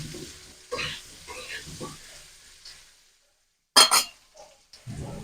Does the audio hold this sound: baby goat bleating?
no